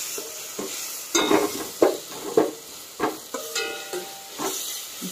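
Ginger garlic paste sautés for a mutton kuzhambu in a pan, a steady close sizzle broken by several scraping stirs of a spoon.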